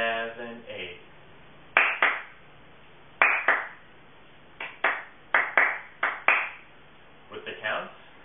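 Hands clap out a Lindy Hop dance rhythm in a beginner class, with sharp, close claps in syncopated groups of two and three separated by short pauses.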